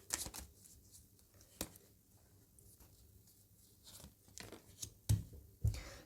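Tarot cards shuffled by hand in a final shuffle, giving soft riffling and flicking bursts with a few sharper snaps near the end, close and fairly quiet, with no talking.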